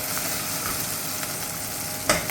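Chicken pieces fry in hot oil with garam masala, giving a steady, close, dense sizzle with a few sharp crackles and a louder pop near the end.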